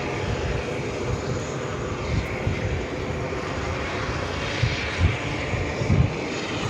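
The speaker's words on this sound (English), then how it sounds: "Next arrival on runway 22 left, coming up from Amsterdam, Delta Airlines flight 47 and A330." Delta Airlines A330 inbound from Amsterdam arriving on runway 22 left at JFK, a steady broadband jet engine roar at moderate distance that swells slightly toward the end.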